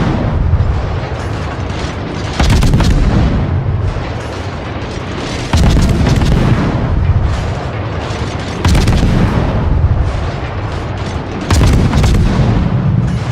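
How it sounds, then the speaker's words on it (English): Ship guns firing in a naval video game aboard the destroyer Benson, heavy booming salvos landing roughly every three seconds over a constant loud rumbling background. "We do a lot of damage to him with my guns"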